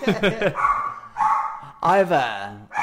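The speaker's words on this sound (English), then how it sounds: "I knew I shouldn't have whacked the table because it upset the dogs" Dogs bark and yip loudly nearby after a table is whacked, several sharp barks mixed with whining, overlapping with people talking.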